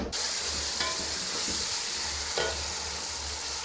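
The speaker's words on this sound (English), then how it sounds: "This is my garlic, onion, and ginger. Put in and mix." Garlic, onion and ginger sizzling loudly in a pan for fried rice, a steady hiss punctuated by a few brief scraping stirs of a spoon, heard up close without speech.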